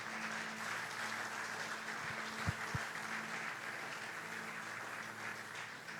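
Congregation at a morning prayer service applauding to acclaim the Lord, a steady wash of clapping spread across the room, fairly distant and even, with a couple of brief thumps partway through.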